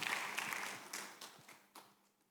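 A church congregation claps in a short burst that quickly thins out and fades to quiet.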